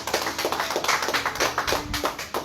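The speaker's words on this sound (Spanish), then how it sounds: "¿Qué te parece si le damos un aplauso al que vive y reina para siempre?" Church congregation applauding, a dense burst of rapid clapping from many hands that keeps going steadily.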